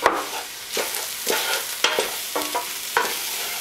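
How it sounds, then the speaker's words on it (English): Chickpea curry ingredients sautéing in a pan, a close steady sizzle broken by several scraping stirs of the spoon at a loose, uneven rhythm, with no voices. "We wanna make sure that we saute these for at least 2 minutes."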